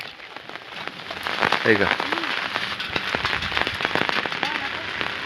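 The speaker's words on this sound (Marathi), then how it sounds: "वाऱ्यानं पाऊस वाजत मग" Wind-driven rain patters steadily on surfaces with dense crackling drops, while a voice speaks briefly over it.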